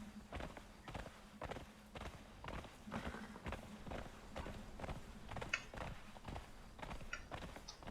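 Steady, rhythmic horse hoofbeats in the video game Conan Exiles clop along at an even pace, fairly quiet, with a few faint mechanical creaks and clicks in the background.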